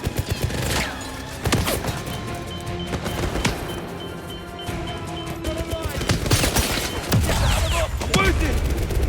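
Gunfire and grenade blasts in the 007 First Light video game, with rapid bursts of shots and heavy booms over a loud, busy combat background while voices shout.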